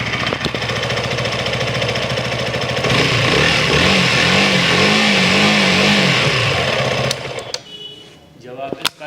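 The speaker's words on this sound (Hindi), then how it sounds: "जब आप इसका 6 से 7 हज़ार RPM पर थ्रोटल खींचेंगे तो कुछ इस तरीके से जो साउंड है वो आपका सामने निकल के आएगा" KTM Duke 160 motorcycle engine revving hard to about 6,000–7,000 RPM, a loud sustained rising-and-falling throttle roar with wavering pitch, cutting off near the end with a few clicks.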